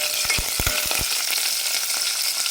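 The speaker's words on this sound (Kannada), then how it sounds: "ಈರುಳ್ಳಿ ಫ್ರೈ ಆಗಿದೆ" Onions fry in a pan for tamarind sambar, a steady, close hiss of sizzling oil with a few soft stirring knocks near the start and no talking.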